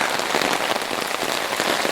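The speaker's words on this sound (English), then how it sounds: "it's raining really a lot. The rains are here again." Heavy rain pours steadily, a dense, loud hiss of drops drumming on a surface with no pauses.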